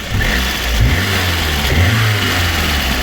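A VAZ 2110 engine runs steadily and loud up close, idling with a couple of brief revs rising above the drone, no voices.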